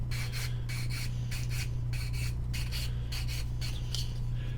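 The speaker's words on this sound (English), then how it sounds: "I prefer hand sanding more anyways" Corners of a mold box for casting scale model parts are hand sanded in quick, rhythmic rasping strokes, close and continuous, with a low steady hum in the background.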